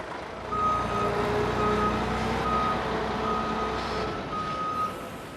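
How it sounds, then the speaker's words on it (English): A lorry delivering chicken litter from local farms reverses with a steady series of intermittent beeps over a continuous engine rumble, fairly close and loud throughout. "it arrives by the lorry load from local farms"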